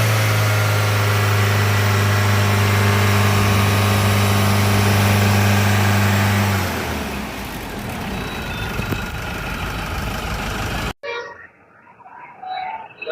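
A used Mahindra Xylo eight-seater with an Eagle engine runs close by with a loud, steady droning hum. Partway through it turns to rougher mechanical noise, then cuts to quieter ambient sound.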